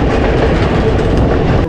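A train rolls along the Konkan Railway between Panvel and Dapoli, loud rumbling and rhythmic wheel clatter heard close from inside, continuous throughout.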